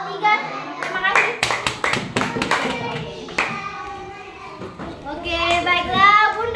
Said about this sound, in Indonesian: Tepuk tangan untuk kelas 3.